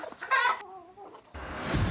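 Rooster clucking and squawking in a short close burst, a strained agitated call with breaks and noisy rustling.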